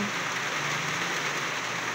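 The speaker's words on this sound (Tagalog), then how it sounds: "Yan po yung ulan ngayon." Heavy rain in Cebu, Philippines, with a typhoon arriving, pours steadily in a dense, even hiss with no pauses, close and loud.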